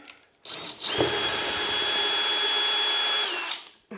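A power drill whirs steadily for about three seconds while backing out the last screw of a ceiling light fitting, close by and loud, starting with a brief clatter and winding down at the end.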